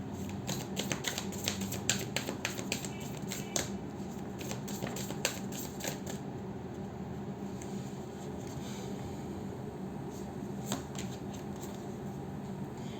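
Tarot cards being handled and drawn from a deck, a quick run of crisp close snaps and flicks, then softer sliding and rustling with scattered clicks, without talk.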